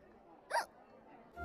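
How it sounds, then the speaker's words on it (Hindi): A single sharp hiccup bursts out close by in a dubbed film scene, then quiet room tone returns before a low rumble swells at the very end. "देखा ना, हिचकी बंद करवा दी ना मैंने।"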